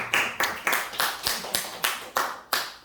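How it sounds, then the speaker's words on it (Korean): Nine or ten single hand claps ring out at an even, brisk pace in a room at a church gathering, each sharp and close with a short decaying tail. "박수 한번 쳐요"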